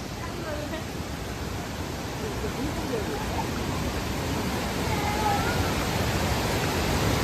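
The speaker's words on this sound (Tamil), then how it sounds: "ஸோ ஃபைனலாக ஃபால்ஸ் வந்துட்டோம்" Athirapally waterfall roars as a steady, broadband rush of falling water, continuous and fairly loud throughout.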